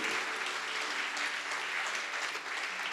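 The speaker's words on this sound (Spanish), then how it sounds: "Denle un fuerte aplauso al Señor" Steady, dense applause fills a church congregation during a Spanish-language evening service, even and sustained throughout with no pauses.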